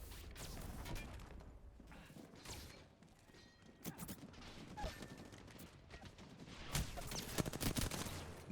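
Gunfire rattles in a battle royale video game: bursts and single shots that sound distant, scattered and uneven, grow denser and louder toward the end, with mechanical clicks between them.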